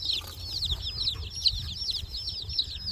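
Young Freedom Ranger meat chicks chirp and cluck in a brooder pen, a busy run of repeated high peeps close by over a low background rumble, with no voices.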